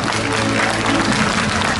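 Members of a Rotary International district conference stand and clap together, a dense, steady burst of crowd applause filling the hall for a couple of seconds.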